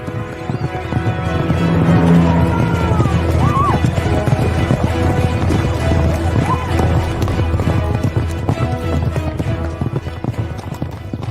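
Racehorses gallop through a race at Egham, a steady rush of hoofbeats with crowd noise and a whinny, loud and continuous throughout.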